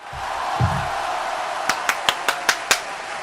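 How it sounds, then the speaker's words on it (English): Six sharp, evenly spaced hand claps ring out close and loud in quick rhythm after a moment of quiet room tone, with no talk over them. "Hand clap!"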